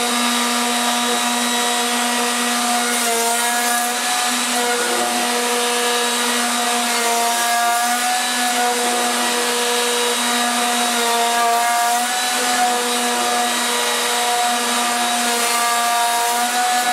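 A power router or milling machine flattens both faces of a sequoia wood blank for an end-grain bowl. It gives a loud, steady, high-pitched whine that holds constant, with slight pitch wavers as the cutter bites into the wood.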